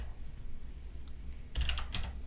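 Quiet keystrokes on a computer keyboard while entering a Linux command on a Raspberry Pi setup: a soft lull, then a short cluster of close clicks near the end.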